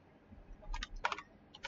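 Short bursts of typing on a computer keyboard while writing a WordPress post, a handful of quick key clicks separated by brief pauses, faint and close, no talking.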